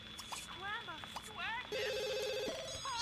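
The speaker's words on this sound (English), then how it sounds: "Stop ringing me, woman." A phone rings in The Sims, its repeated electronic tone running steadily through the second half over chirpy game music and sound effects, with a voice speaking briefly.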